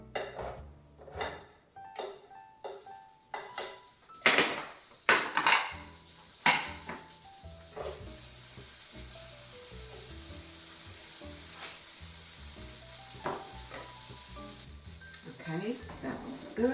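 About a teaspoon of butter in a pan while making a keto almond flour tortilla breakfast burrito: clattering pan and utensil knocks at first, then a steady soft sizzle settling in, with occasional clinks.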